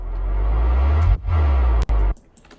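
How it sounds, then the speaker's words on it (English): A deep booming low impact builds up in reverse, cuts off, then hits again as a heavy forward impact with brief gaps and a fading tail, in a trap music production. "We have a low impact that's reversed into a regular impact."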